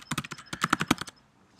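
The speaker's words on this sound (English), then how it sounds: "I'm so horrible typing my password" Rapid bursts of keystrokes as a password is typed on a computer keyboard, a quick run of crisp clicks lasting about a second, then quiet.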